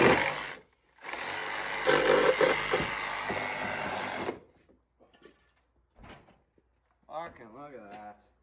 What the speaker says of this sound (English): get that sawzall back here.